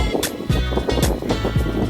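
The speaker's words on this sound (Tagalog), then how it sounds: "Lakas ng hangin tapos relax pa." Strong wind at Puerto Galera, Oriental Mindoro, buffets the microphone in a constant roar, with gusty thumps throughout and no other clear sounds.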